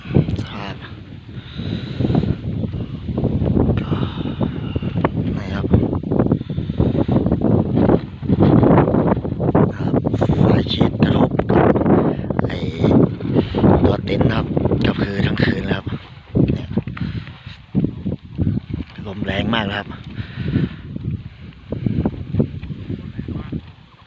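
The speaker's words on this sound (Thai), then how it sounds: "ลมครับ ลมแรงทั้งคืนครับ" Strong wind buffets the microphone at a campsite in Nanthaburi National Park, a loud, continuous rushing roar with gusty surges throughout, with no break or quiet moment.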